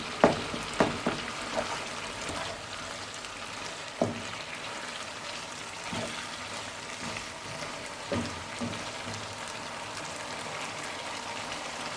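Chicken karahi frying in a pan, a steady sizzle throughout with a few clinks and scrapes of a spoon stirring near the start and scattered later, no voices.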